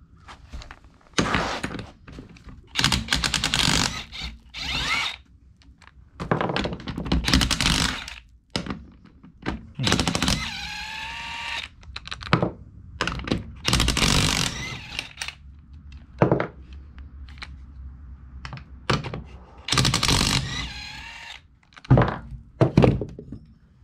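A cordless 20 volt DeWalt XR power tool applying torque on a BX1500 front axle, firing in repeated loud, close bursts of hammering impact separated by short pauses, with no talking.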